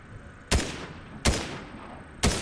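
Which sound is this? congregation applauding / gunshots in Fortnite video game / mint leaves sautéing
gunshots in Fortnite video game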